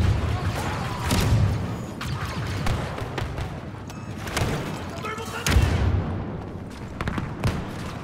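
A thermal detonator grenade thrown and exploding in Star Wars Battlefront 2 Galactic Assault multiplayer, with several booming blasts amid gunfire and battle noise, and voices calling out over the action.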